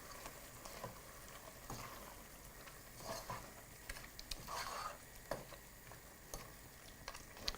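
Goat rib pieces frying in a reducing sauce, a soft continuous sizzle with scattered scraping and clicking as the meat is stirred in the pan, quiet and close.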